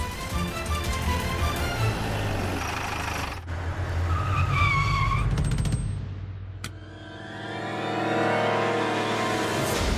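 A car brakes hard and skids, tires squealing in a sharp burst after a loud engine run, then the sound drops away before a rising engine hum returns.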